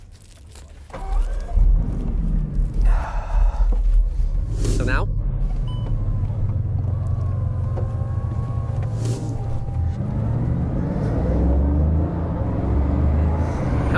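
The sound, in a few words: record-breaking Bugatti car setting off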